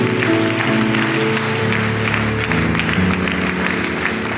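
Congregation at a church gathering breaks into sustained applause, steady and full, over organ-like music and voices that carry through the whole stretch.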